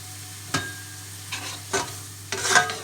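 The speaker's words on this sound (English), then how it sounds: "It's mixing in with our base of onions and carrots." Ground spices stirred into a frying base of onions and carrots for a keema pie, giving four short, close scraping bursts over a quiet, steady low hum.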